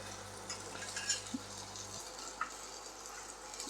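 Garlic and chopped onion frying slowly in a pan, a soft low sizzle under faint stirring and a few light clinks of utensil on metal, quiet and close.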